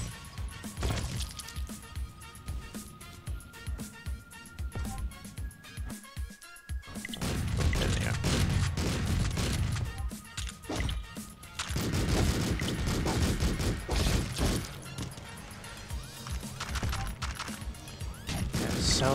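Rapid bursts of turret gunfire in the video game Streets of Rogue, with dense crashing shots and impacts packed together, easing briefly mid-way before resuming loud and sustained.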